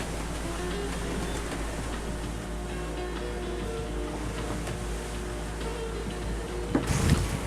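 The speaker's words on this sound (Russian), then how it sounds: "сейчас ветер 20-25 узлов, ветер встречный, лодку кренит" Strong 20–25 knot headwind and waves washing against a heeling sailboat, a steady broad rushing roar with a louder gust or splash near the end.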